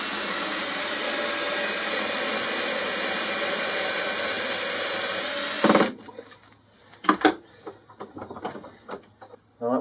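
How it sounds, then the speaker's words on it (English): A power drill bores out the Phillips-head screw inside a drill chuck, a loud steady high whine for several seconds that stops abruptly, followed by scattered clicks and clatter of metal parts. "go down into this and just drill out the Phillips head on the end"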